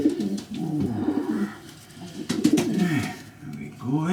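A young blue pied pigeon coos repeatedly while being held in the hand, with low, throaty rolling calls close up, separated by brief pauses and soft rustling.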